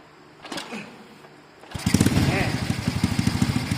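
After a few faint clicks and brief noises, a Honda Wave 125 motorcycle engine fitted with an aftermarket ECU sputters to life and keeps running with a rough, rapid putter.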